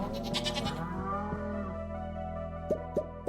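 Goats in Stardew Valley bleat a few times in quick succession, close and clear over steady game music, with no talk.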